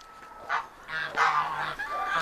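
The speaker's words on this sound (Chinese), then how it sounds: "大鹅喊你来呀来呀。" A farm goose honks repeatedly in loud, nasal bursts at close range, with no talking over the calls.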